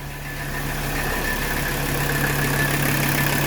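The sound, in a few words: 1985 Mercedes 300CD diesel engine starting and idling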